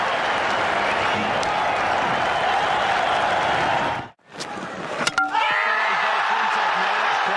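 A cricket stadium crowd cheers and applauds loudly and steadily after a bowled wicket. The roar breaks off abruptly near the end, then returns more faintly with some scattered whistles.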